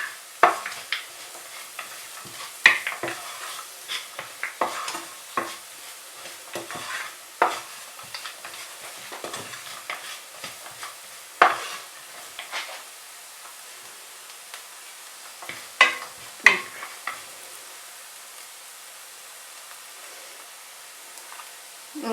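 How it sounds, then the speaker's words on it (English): Vegetable stuffing with salted cashew nuts sautéed in a pan for veg puffs: a low steady sizzle broken by frequent sharp spatula scrapes and clacks against the pan, close and fairly loud, no talking. "Saute it until this raw smell goes."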